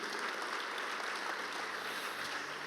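A church congregation applauding on a Good Friday Easter-weekend night service, a dense, steady wash of many hands clapping alone with no talk, holding even throughout.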